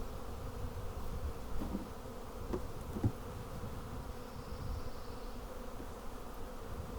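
Honeybees buzz around an open hive during a spring hive reversal, a dense, steady drone of many bees close by with occasional individual bees passing nearer, no talk.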